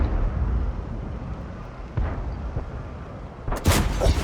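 A KV1 tank firing its 85 mm gun in a video game, with a couple of dull booms under a low rumble and then a sharper, louder blast near the end.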